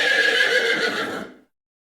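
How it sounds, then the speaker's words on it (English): A horse whinnies loudly and close by, one sustained neigh that ends abruptly, with no voice over it. "Horse, foal."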